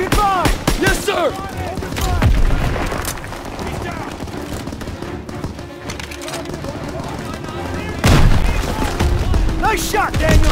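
Heavy World War II battle gunfire in Call of Duty WW2: dense bursts of rifle and machine-gun fire mixed with booming blasts, loud and sustained, surging again near the end, with soldiers shouting throughout.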